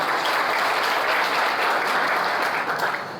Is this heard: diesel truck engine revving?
no